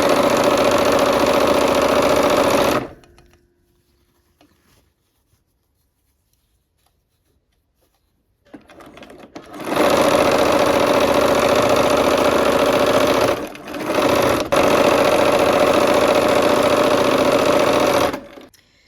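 A sewing machine stitches quilt sections in two long, steady runs of loud, even whirring, separated by several seconds of near silence and broken by a brief pause partway through the second run.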